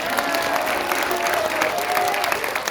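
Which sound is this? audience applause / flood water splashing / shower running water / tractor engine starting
audience applause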